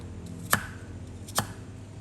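A knife chops an apple on a cutting board twice, sharp and close, with a quiet gap between the two chops.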